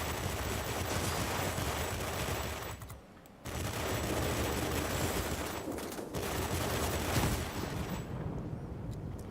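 Rapid, continuous aircraft machine-gun fire from an F7U Cutlass in a flight combat game, loud and close, running in long sustained bursts broken by brief pauses.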